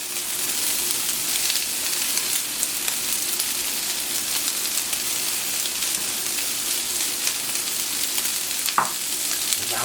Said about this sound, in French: Voilà, on va ajouter les échalotes.